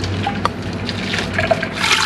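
Water is poured while cooking, a short burst of splashing and trickling liquid with small drips, fairly close and alone.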